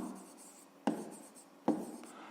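Two short scratches of a pen writing on paper, close and quiet, separated by a pause over a faint background hiss, with no talking.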